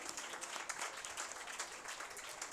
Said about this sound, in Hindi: तो ज़ोरदार तालियां इनके लिए भी।